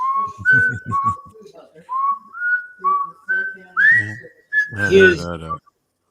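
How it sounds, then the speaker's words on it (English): Someone whistles the Wheel of Fortune theme, a bright, bouncy tune close up, short phrases stepping upward, ending in a burst of laughter or voices. "here's whistling the Wheel of Fortune song"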